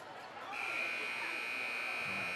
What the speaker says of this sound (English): And Foster at the buzzer trying to hit.